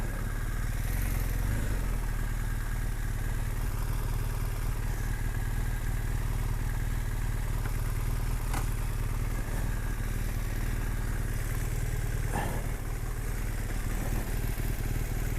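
Off-road vehicle idling while green laning in France: a steady, close mechanical idle with a constant low thrum and light clatter runs unbroken, with no talk.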